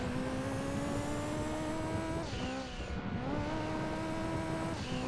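A fast racing car in Gran Turismo 2 roars at high revs, its loud, steady engine whine briefly dipping for a gear change before climbing again, with no talking over it.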